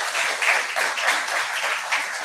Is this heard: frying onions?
no